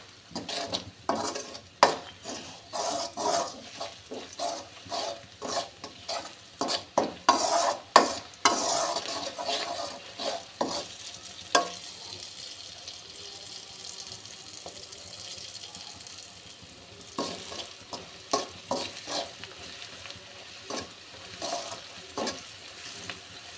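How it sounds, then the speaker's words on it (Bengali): Turmeric, chili, coriander and salt sauté in a pan over a constant sizzle, with a spatula stirring and scraping busily against the metal in rapid, uneven strokes. The stirring eases off midway and picks up again near the end, and no one talks. "আমি এটা ভালোভাবে কষিয়ে নেব।"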